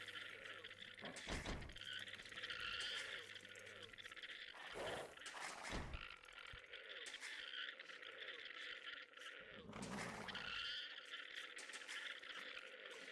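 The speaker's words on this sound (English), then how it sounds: "these llama noises are very intense" Llama calls in the Age of Empires 2 video game: faint, repeated bleating, croaking cries in several separate bursts over a low steady game ambience, with no talk.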